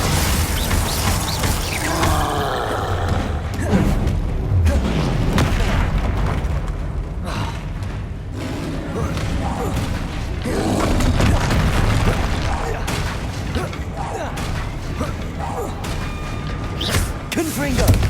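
Fire and ice spell blasts, Confringo and Glacius, cast in the Hogwarts Legacy wizarding game, booming magical impacts and crackling bursts layered over a continuous rumbling combat bed, with a voice speaking throughout.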